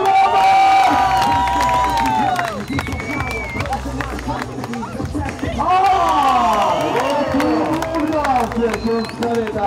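Spectators at a BMX pro final cheer and applaud loudly over a continuous crowd roar, with a PA announcer's amplified voice talking over it and swelling excitement returning after a brief dip.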